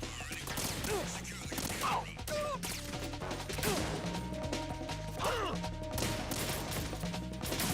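Bursts of AK rifle fire in Metal Gear Solid 2, rapid shots mixed with crashes and impacts over ongoing game music, repeating steadily throughout at close range, with brief voices mixed in.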